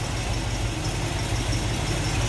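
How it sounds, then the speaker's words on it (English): A 1963 Cadillac Series 62 with its 390 V8 idles close by, a steady low rumble with a faint rhythmic pulse, and no one talks over it. "Check out the 390 V8 underneath there"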